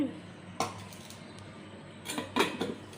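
Dishes, pots and pans clatter in a full kitchen sink, with a few sharp clinks and knocks of utensils spread across the moment, the loudest cluster coming near the end over a quiet background.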